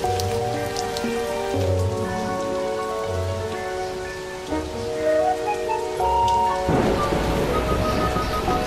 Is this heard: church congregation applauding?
no